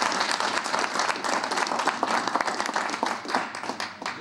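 Audience applause after a talk, a dense patter of many hands clapping that holds steady and thins slightly near the end, close and fairly loud.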